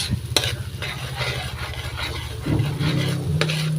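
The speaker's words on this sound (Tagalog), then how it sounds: "halo-haloin lang po natin para ma-mix" A spoon stirring sautéed mung beans (ginisang munggo) in a pot, a soft bubbling and low rhythmic scraping and rubbing, close and fairly loud with no voices.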